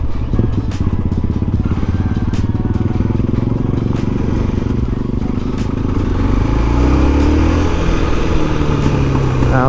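A BMW F650 single-cylinder motorcycle engine running close by after a long restoration, a loud continuous thumping idle with rising and falling revs and a few sharp pops, with no talk over it.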